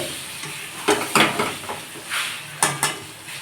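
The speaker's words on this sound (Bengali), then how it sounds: "ডিম আর আলু দিয়ে দেবো একটু কষিয়ে নিচ্ছি ভালো করে" Egg and potato being stirred into a spice masala in a pan, with a steady low sizzle broken by several sharp scrapes and clinks of a spoon against the metal, close and fairly loud.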